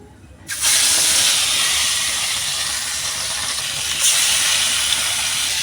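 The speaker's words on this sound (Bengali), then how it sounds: "এবার আমি এতে ছেড়ে দেবো মাছগুলো।" Fish dropped into hot oil in a well-heated kadai set off a sudden, loud, sustained sizzle that rises sharply and holds as a dense, close hiss with no voices over it.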